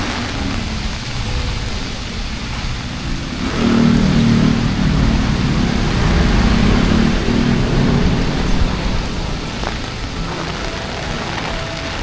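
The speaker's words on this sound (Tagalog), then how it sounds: "Grabe, ang lakas ng ulan guys." Heavy rain pounding a street in Manila near the central post office and riverside bridges, a dense steady hiss with a car engine passing and swelling midway, loud and close throughout, with no talking.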